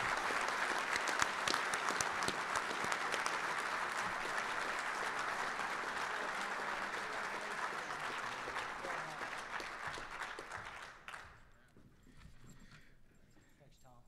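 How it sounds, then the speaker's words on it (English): A large banquet crowd applauds steadily at an awards dinner, a dense wash of clapping that holds strong for about eleven seconds before dropping away to quiet room tone. "please join me in a round of applause."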